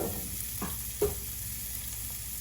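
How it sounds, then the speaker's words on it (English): Olive oil sizzles steadily in a pan, with a couple of brief louder crackles and pops along the way. "I'm finna do a little olive oil, get it frying a little bit."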